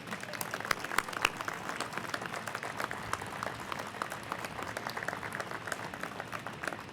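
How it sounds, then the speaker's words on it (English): A modest audience at a water bioenergy facility commissioning ceremony offers quiet, scattered applause with individual claps audible, continuing evenly and fairly distant throughout. "could we have a special round of applause for George Hawkins?"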